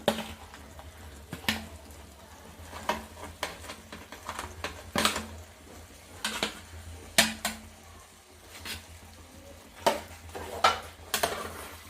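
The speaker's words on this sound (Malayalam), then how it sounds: "നല്ലപോലെ ഒന്ന് ഇളക്കി യോജിപ്പിക്കുക എല്ലാം കൂടി." Fried chicken is stirred into a tomato curry in a pan, with a spoon scraping and clinking against the metal in irregular sharp knocks over a faint, quiet cooking background.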